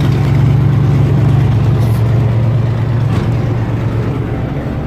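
A Versatile 700 diesel tractor engine runs loud and close with a steady, heavy rumble that holds fairly even through the clip, easing slightly toward the end.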